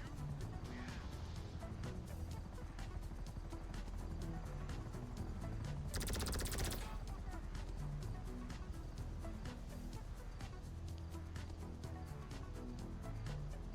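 Gunfire in the video game GTA V during a survival match, a steady stream of game noise and music with one dense, loud burst around the middle.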